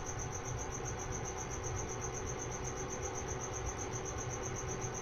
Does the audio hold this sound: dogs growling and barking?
no